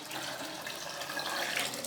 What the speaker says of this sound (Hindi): और अब हम जो है ना इसमें पानी थोड़ा और शामिल करेंगे